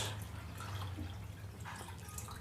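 Water poured into a cooking pot, about two liters, to start a pork bone soup stock; a steady, close splashing flow with faint dripping throughout.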